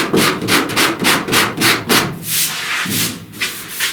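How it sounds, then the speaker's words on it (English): Hand sanding of body filler on a truck cab corner dent repair, close rhythmic back-and-forth rasping strokes, about two per second, loud and alone. "I now need to sand down here"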